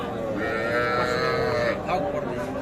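Calves and cattle moo at a busy rural livestock market, one long drawn-out low call followed by a shorter one, heard over a constant crowd murmur.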